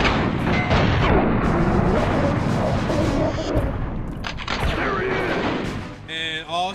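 Heavy turret fire in the PS2 game Dead to Rights, a dense, continuous barrage of booming shots that stays loud for most of the stretch, then thins near the end as other game effects come through.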